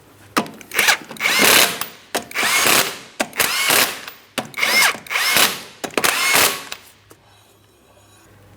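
An impact wrench drives 19mm lug nuts onto the front wheel of a 2003-2007 Cadillac CTS. It sounds as a close, loud run of about seven short whirring, rattling bursts separated by brief pauses, with no talking.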